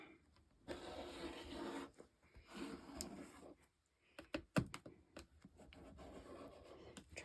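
Scissors or a rotary cutter slicing through quilt fabric for a quilted basket, heard as close, dry scraping and rubbing passages broken by short pauses and a few sharp snips, fairly quiet with no talking.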